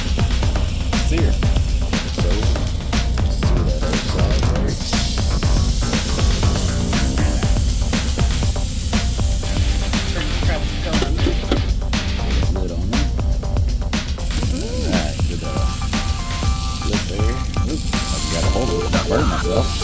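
A steak sears on a very hot grill at a truck stop, giving a loud, steady sizzle and spatter that runs unbroken through the whole stretch.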